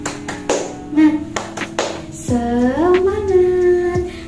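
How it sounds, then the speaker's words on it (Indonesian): Fourth-grade classroom doing a rhythmic clapping chant: a series of crisp, evenly spaced hand claps, followed by voices chanting together with a final clap, close and clear. "kita tepuk semangat terlebih dahulu ya"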